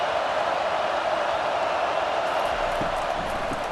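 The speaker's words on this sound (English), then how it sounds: "Decibels rising as the crowd gets behind this defense on 3rd down." Stadium crowd at a Nebraska Cornhuskers vs. Illinois college football game roars on third down, a loud, steady wall of cheering and noise with no break.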